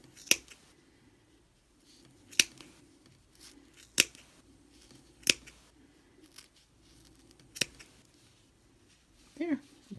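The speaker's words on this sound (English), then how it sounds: "stick my scissors in those loops," Scissors snip through yarn loops wound for a mini pom pom, giving about six sharp, separate cuts spaced a second or two apart, close and crisp over quiet handling noise.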